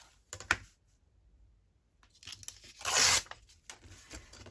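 Paper torn by hand while making a library card pocket for a craft project, a short rip followed by a louder, sustained tearing stretch, close and clear with no talking.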